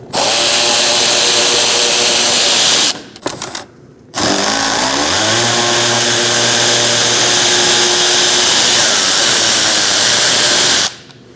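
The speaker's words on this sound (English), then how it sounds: "Using a T15 Torx bit, we're going to remove these two bolts, one here, one here." A power driver with a T15 Torx bit backing out bolts from the front grille of a 2016-2019 Chevrolet Cruze: two loud, sustained whirring bursts split by a short pause with clicks, the second run shifting pitch.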